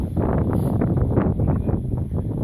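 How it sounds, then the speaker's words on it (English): Strong wind gusts buffet the microphone outdoors on open ground being scouted as a possible site, a loud, rumbling roar with no talk. "It's windy, man."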